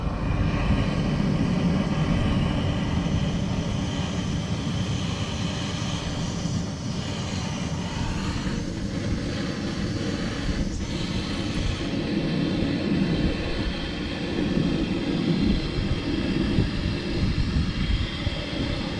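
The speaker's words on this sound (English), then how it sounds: "That sounds more like the jet engine noise I'm used to" Steady, loud roar of a jet engine running continuously at close range, a broad unbroken rumble with slight fluctuations.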